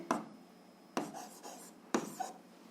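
A pen writes out an algebra equation system on paper, three short bursts of scratching strokes spaced about a second apart, close and quiet with no talking.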